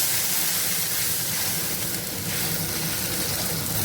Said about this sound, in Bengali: এরপরে দিয়ে দিচ্ছি জল।